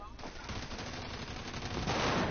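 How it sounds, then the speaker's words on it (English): Machine gun firing in a first-person shooter video game, a dense continuous rattle of rapid shots throughout the short stretch, loud and close, with some talk mixed in. "Alright, I'm moving with the machine gun."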